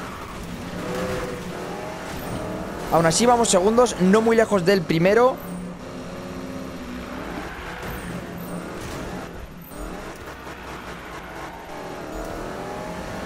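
A racing car engine in a drifting video game revs and whines through a sharp burst of rising and falling gear changes, with steady engine drone and someone talking over much of it.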